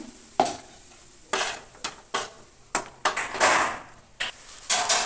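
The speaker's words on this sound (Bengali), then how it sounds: "সামান্য একটু জল দিয়ে দিই মশলাটা কষানোর জন্য" Spice paste of turmeric, cumin, coriander and chilli with a splash of water being stirred in a pan for Bengali vegetarian cabbage curry, with repeated scraping strokes, soft sizzle and occasional clinks of a spoon against the pan, close and fairly loud.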